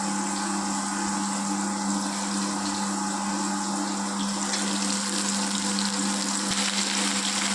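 Onions and okra sizzle in a pan for okra kuzhambu, a loud, dense, continuous frying hiss heard close up with no talking.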